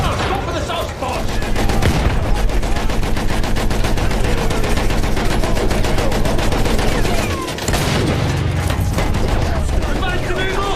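Rapid machine-gun and rifle fire aimed at an armored landship tank in Battlefield 1, a loud, dense, continuous barrage with booming impacts, briefly thinning near the middle before resuming at full intensity.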